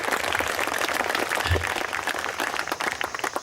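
An audience at a meditation talk claps together in a continuous dense patter of many hands, a steady wash of applause lasting a few seconds at moderate loudness, with no speaking over it.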